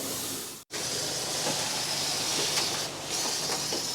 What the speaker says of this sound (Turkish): Daha sonrasında da bunun üzerine arkadaşlar buharla giriyor.